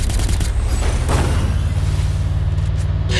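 Dense, continuous video-game gunfire fills the whole stretch, loud and relentless, with rapid overlapping shots and booms and no pause.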